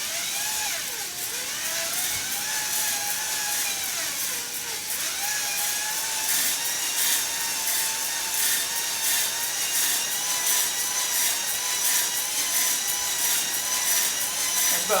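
Drill motor spinning a cylinder hone inside the bore of a Jeep 4.0 engine, a steady whining drone with a shifting pitch and a rasping scrape as the hone plunges up and down.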